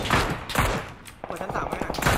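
Gunfire in the battle game PUBG, a string of rapid shots heard under and between excited player chatter.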